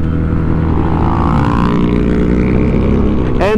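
Harley-Davidson Street 750 motorcycle engine while riding, a loud continuous close rumble with slowly shifting engine tone and steady wind, with no talking.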